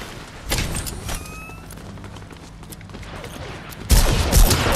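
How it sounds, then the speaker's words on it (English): Fortnite gunfire: a burst of shots early, scattered single reports through the middle, then a heavy, loud volley of rapid fire at the end, all fairly close with no talking. "Oh, they're shooting at me."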